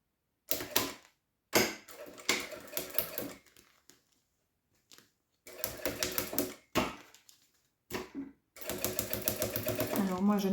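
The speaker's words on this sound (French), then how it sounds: "on vient faire la surpiqûre tout le long" A sewing machine topstitches a lining of anorak-like fabric on a glasses case, running in quick rattling bursts separated by pauses, with a voice speaking near the end.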